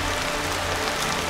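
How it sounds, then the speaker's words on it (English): Heavy rainforest rain pours down in a dense, loud, unbroken hiss of drops pounding on surfaces. "It's really raining now."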